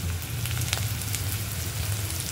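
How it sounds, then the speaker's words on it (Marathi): Food fries and sizzles steadily in a pan with a constant crackling hiss, close and loud with no pause, and no voices over it. "आणि छान असं फ्राय करून घ्यायचं"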